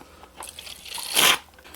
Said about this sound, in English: Now, if we add water, you'll hear a crackle.